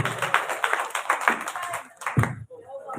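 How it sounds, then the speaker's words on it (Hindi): Applause at a large community gathering with devotional singing, scattered hand claps in uneven bursts, moderately close, with a brief pause before more claps resume. "जोरदार ताली हो जाए इनके लिए"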